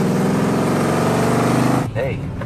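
A car speeds past in a film scene, its loud engine drone rising and then cutting off sharply near the end as a voice begins speaking over it.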